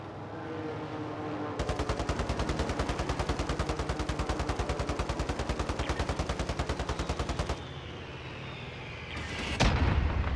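Rapid rhythmic gunfire rattles for several seconds in Call of Duty: Modern Warfare, followed by a sudden loud bomb blast at the end.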